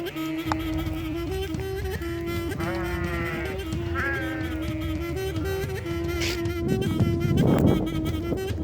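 A flock of sheep and goats bleating continuously nearby on a highland route, many overlapping calls of varied pitch over a steady low hum.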